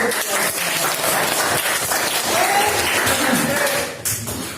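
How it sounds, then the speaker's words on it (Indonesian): Students applauding in an Indonesian classroom after the teacher calls for a round of clapping, a dense, steady wash of many hands lasting several seconds and tapering off at the end, with faint voices mixed in. "Tepuk tangan."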